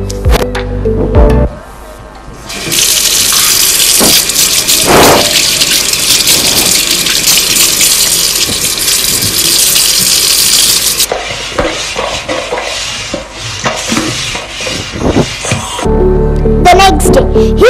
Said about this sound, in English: And he washed the shirt clean and flattened the shirt.